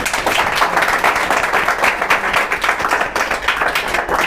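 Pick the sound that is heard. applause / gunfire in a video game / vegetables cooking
applause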